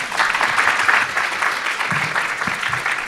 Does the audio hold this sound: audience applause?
yes